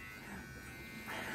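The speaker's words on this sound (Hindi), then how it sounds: "तो गाइस ये रहा ट्रिमर" An electric beard trimmer buzzes steadily and quietly at close range, its hum growing slightly louder near the end.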